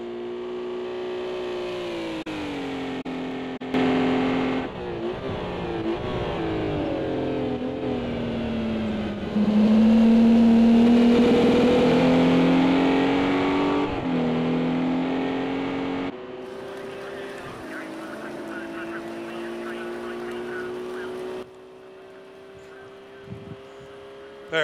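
Race cars circle Silverstone in Project Cars 2, engines droning and revving with rising and falling pitch as cars pass, a steady mid-loud motor whine that shifts between near and more distant passes.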